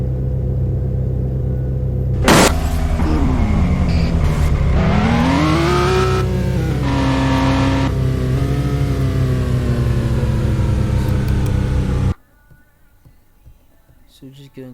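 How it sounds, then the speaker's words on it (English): A virtual car in a simple Unity car game drones with a loud steady engine tone that rises and falls in pitch as it revs, continuing for several seconds before cutting off abruptly near the end. "the active control was set inactive, so that was why the car didn't move"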